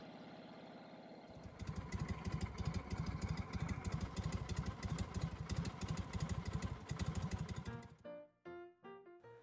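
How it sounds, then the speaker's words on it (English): A 1948 Harley-Davidson EL Panhead motorcycle engine starts and settles into a loud, lumpy, rhythmic idle up close, then shuts off and sputters to a stop. "This is a 1948 Harley Davidson EL"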